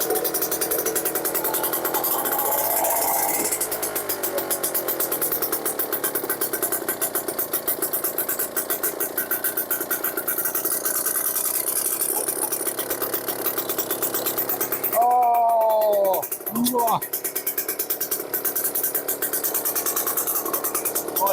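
A vintage British Seagull 40 outboard engine runs with a loud, rapid, rattling two-stroke putter that holds steady, briefly changes tone partway through, then carries on.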